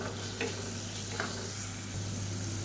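Tomato with ginger garlic paste sautés in a pan with a steady, soft sizzle and a few faint stirring scrapes, with a low hum underneath.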